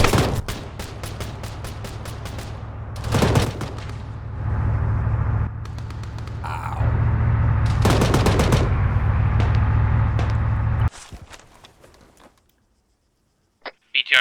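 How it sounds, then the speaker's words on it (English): Automatic gunfire in a military video game, bursts of rapid shots crackling over a steady engine rumble, with a sharp loud volley around three seconds and another near eight, then the engine noise cuts off into near silence. "Okay, gonna fire in 3, 2, 1, fire"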